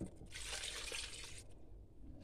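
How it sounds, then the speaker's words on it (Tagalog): Water poured into a cooking pot for salmon head, a soft close splashing gush lasting about a second before stopping, then quiet kitchen background. "Lagyan natin tubig."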